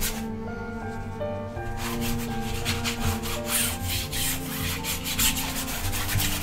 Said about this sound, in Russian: Вы видите, как нахрапом работает кисть.